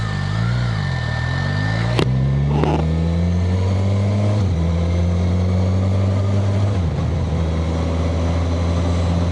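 A Suzuki Katana motorcycle engine pulls hard along a winding road, its loud, close drone rising in pitch through the gears with brief dips at each shift and steady wind noise behind it.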